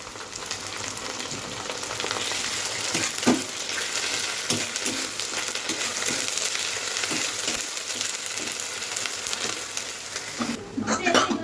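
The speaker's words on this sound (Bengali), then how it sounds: "এই যে পেঁয়াজটা হালকা করে ভেজেছি।" Onion, ginger paste and garlic fry in a pan with a steady close sizzle and hiss, broken by occasional scrapes and stirs.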